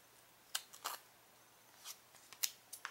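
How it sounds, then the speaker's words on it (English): Scissors snip duct tape in a handful of short, crisp cuts at irregular intervals, close and fairly quiet with no talk. "just cutting it down a little smaller and rounding those corners off kind of"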